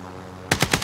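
Four sharp bursts of automatic gunfire in Call of Duty Warzone, loud and close, coming in quick succession after a quiet half-second of low ambient hum.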